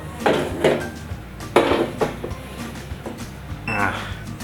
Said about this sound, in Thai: ตอนหั่นมันก็ ความรู้สึกก็คือแตงโมและเสียงดังกรอบแกรบกรอบแกรบ